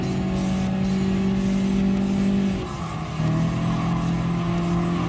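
Race car engines droning steadily in Gran Turismo Sport while drafting and overtaking a Honda S660 in a lightweight K-car race, a loud sustained engine tone that dips briefly and then settles back to a lower pitch.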